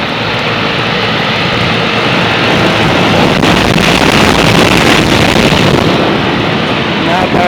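An outdoor condensing unit of a 1970s Carrier Challenger 38GS 3.5-ton central air conditioner with a scroll compressor runs close by. It gives off a steady, broad fan roar with a low hum underneath, unbroken throughout.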